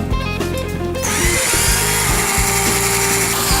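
A power screwdriver whines loudly and steadily as it drives screws into the side wall of a homemade wooden fireplace portal. A short lower drone comes first, then the sustained high motor whir, with brief dips as the screws seat.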